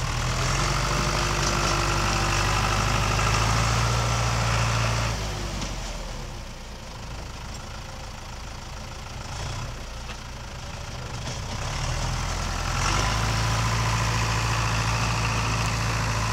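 A 2000 John Deere 5410 tractor engine runs loud and close, a deep diesel rumble that drops to a quieter idle in the middle before revving back up, with no talking.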